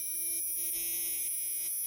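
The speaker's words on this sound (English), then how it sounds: "I'm going to wait till the buzzer turns off because that's annoying as hell" Ignition key warning buzzer in a 1986 Chevy K10 Squarebody pickup, a steady, continuous electronic tone with a faint hum beneath it, sounding without a break throughout.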